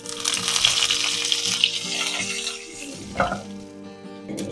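Dried red chillies and curry leaves sizzling in hot oil while tempering Gujarati wedding-style dal, a steady close crackle with a brief louder spurt near the end, no talking.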